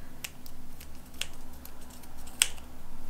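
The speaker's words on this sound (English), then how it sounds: "I cut it. And it's time for my little scissors now." Small scissors snip through yarn during a machine-knitting craft project, a few sharp, close, quiet clicks and snips spaced irregularly over a soft background hum.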